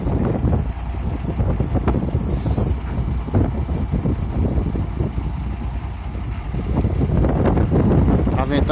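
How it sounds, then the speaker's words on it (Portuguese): Strong wind buffets the microphone outdoors in a steady, loud, low rumble that lasts the whole time, with no clear talk. "Tá ventando bastante hoje."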